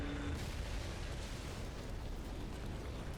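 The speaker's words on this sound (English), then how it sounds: "Oh, it's just a regular explosion." Explosion in the mech combat game Armored Core VI, a dense, steady roar of rumbling blast noise that fills the whole clip at constant loudness with no voices.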